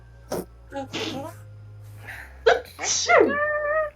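A single loud sneeze comes up close, set among casual talk and laughter from a small group gathered to play a tabletop role-playing game.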